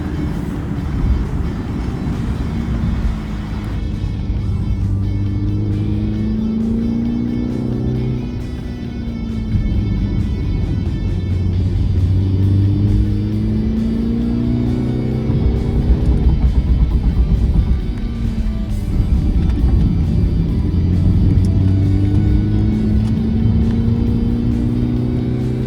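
A MINI Countryman S driven up a wet mountain road to Genting Highlands, its engine droning steadily from inside the cabin with rising and falling revs through the bends and a constant road and tyre rumble.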